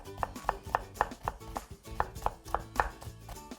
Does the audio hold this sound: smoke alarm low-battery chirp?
no